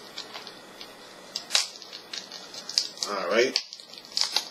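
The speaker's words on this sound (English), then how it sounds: "let's start unwrapping" Plastic shrink-wrap crinkles and crackles as it is peeled off a Tetris 99 game case, soft and close, in scattered rustling bursts while a person speaks briefly.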